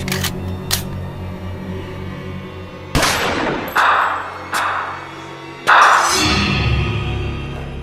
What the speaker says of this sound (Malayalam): നമുക്കൊന്ന് വെടിവെച്ച് നോക്കാം അല്ലേ?